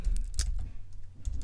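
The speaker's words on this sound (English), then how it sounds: "I'm having trouble typing out today" Typing on a computer keyboard while programming, a quick run of close clicking keystrokes in uneven bursts over a low background hum.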